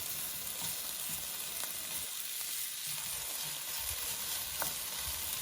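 Celery, onion and carrots fry in a pan with a steady, soft sizzle and crackle, with faint scraping stirs now and then and no talking.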